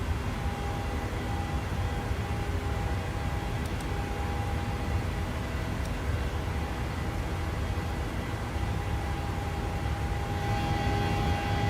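PMDG 737-800 airliner departing Waterloo in Microsoft Flight Simulator, a steady loud jet engine roar with a constant whining tone running throughout, unbroken and without talk.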